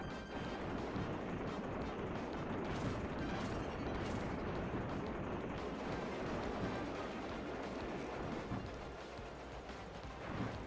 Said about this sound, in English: But we have two cannons that are all shooting the same exact way